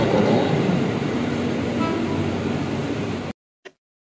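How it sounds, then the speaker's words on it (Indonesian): A KRL Jabodetabek electric commuter train rolls loudly with a steady rumbling, rattling roar for about three seconds, then cuts off, followed by a brief faint click. "Kereta rel listrik komuter lain atau yang lebih kita kenal dengan nama KRL Jabodetabek merupakan sebuah moda transportasi umum dengan sistem rel listrik."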